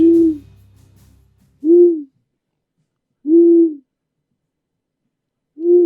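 Three loud, clear owl hoots, each a sustained low tone about half a second long, repeat at roughly one-and-a-half-second intervals after a faint low rumble at the start, with no talking.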